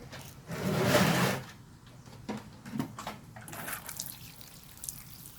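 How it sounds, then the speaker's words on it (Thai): Water poured onto potting soil while planting a Philodendron, starting with one loud gush of pouring, then a few softer splashes and trickles as the soil soaks it up. "ใส่น้ำเยอะๆก่อนนะคะ ให้มันชุ่มฉ่ำถึงนาะ"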